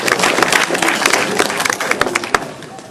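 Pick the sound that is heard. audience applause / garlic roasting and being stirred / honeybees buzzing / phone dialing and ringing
audience applause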